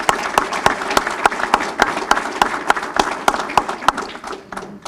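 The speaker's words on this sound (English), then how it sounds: "So I would also like us to give Bubba a round of applause for that." Members at a Rotary Club meeting applaud steadily for about five seconds, a dense, fairly loud run of clapping with several prominent close hand claps, tapering off at the end.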